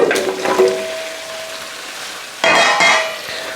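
Butternut squash dropped into hot oil with spices for a lamb curry gives a sharp sizzle that fades into a steady frying hiss, then flares loudly again as more pieces hit the pan, close up with no talking.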